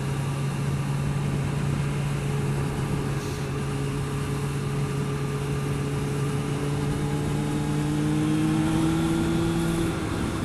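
A steady, loud engine drone from an old motorbike idling close by, a constant hum with a slight rise in pitch near the end, no talking over it.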